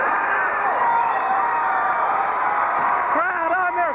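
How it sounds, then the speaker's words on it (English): A basketball crowd on its feet, cheering at a 1987 high school final between Gate City and Marion, forms a dense, loud, continuous roar of many voices that swells slightly near the end. "Crowd on their feet."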